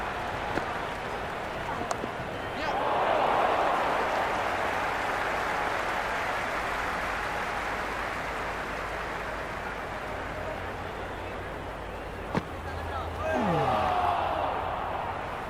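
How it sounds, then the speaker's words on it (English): A large cricket crowd at a PSL match roars and chatters continuously at a distance, a loud steady wash of noise with occasional swells and a sharp knock. "The crowd are really getting quite raucous"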